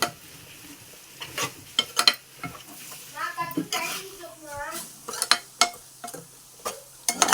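Spoon scraping and stirring ground coriander into a sizzling brinjal curry in a pan, with intermittent clinks and scrapes, a soft sizzle underneath, and someone talking over it.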